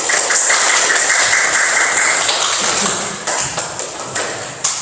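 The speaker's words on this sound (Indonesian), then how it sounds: "Tepuk tangan buat kalian semua." Students in a classroom clapping in a brief, dense burst of applause that thins into a few scattered claps before ending.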